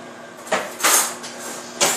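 A few sharp clatters and knocks, like a drawer sliding and metal cutlery being picked up, spaced across a couple of seconds with no talking.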